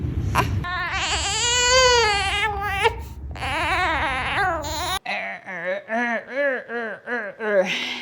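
Infant crying an "Eair" cry linked to lower gas, several strained, wavering wails close to the microphone, one continuous stretch followed by shorter broken sobs.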